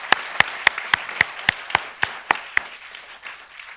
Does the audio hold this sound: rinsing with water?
no